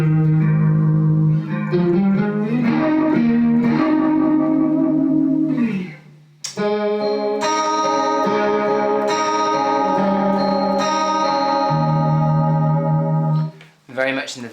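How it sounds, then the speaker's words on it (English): Electric guitar through an Analog Man chorus pedal set to a fast, Leslie-like chorus rings out in sustained, shimmering chords and single notes. Two loud phrases are split by a brief pause, with no talk over the playing. "Or the other one would be the fast chorus sound."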